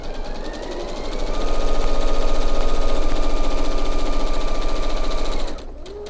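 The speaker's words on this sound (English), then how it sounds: "and now I sew on this other side." A sewing machine stitching quilting fabric along a diagonal line with a quarter-inch foot, a loud steady mechanical whir with fast even needle pulses that speeds up, runs smoothly, then stops.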